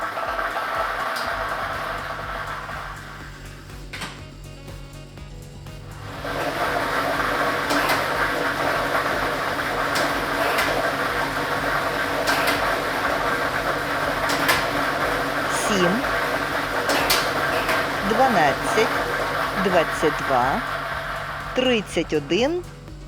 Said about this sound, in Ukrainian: І ми вмикаємо лототрон.